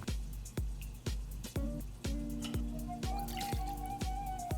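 Aperol poured into a measure while mixing a cocktail: liquid trickles in with a faint tone that rises as the measure fills, over a regular, evenly spaced soft thumping.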